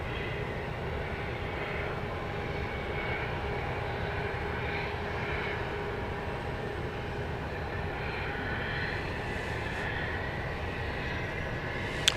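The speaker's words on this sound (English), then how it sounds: "big jets, or at least big compared to that, make their way to the top of the runway for their next destinations" Big jet airliners taxi toward the top of the runway at Dallas Love Field, with a steady broadband engine roar and hum that holds at a constant distant level throughout and no voices.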